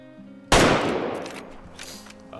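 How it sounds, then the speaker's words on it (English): A single sharp rifle shot fired at a red deer in the hunting game Way of the Hunter cracks loudly after a quiet moment, then rolls off into a long fading echo. "let's go ahead and take this shot"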